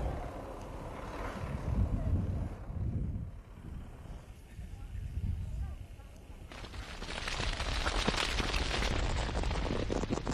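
Roaring fireworks blasts and fizzing gunpowder from a 10,000-meter fuse laid along the Great Wall of China, a long, dense rumble with bursts swelling and fading before a steady crackling roar takes over near the end.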